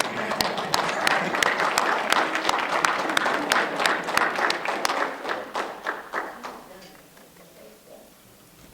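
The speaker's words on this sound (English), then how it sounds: "I think we can give a stronger applause." Audience applause from a crowd at a community meeting in East Point, a steady wash of many hands with sharper individual claps, holding strong for about six seconds before thinning and fading out.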